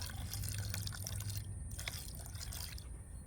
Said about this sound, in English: You want me to pour some of my water in there?